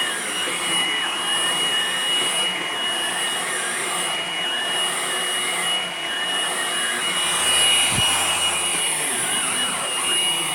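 A Hoover vacuum cleaner with a newly fitted brush roll runs steadily, a loud continuous whining drone with a brief low thump near the end and no talk.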